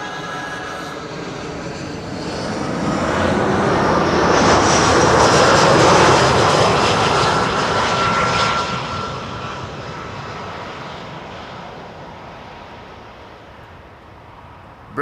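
An Air Arabia Morocco airliner lands on runway 06 at Schiphol, its engine roar swelling loud overhead, peaking midway and then fading as it rolls away.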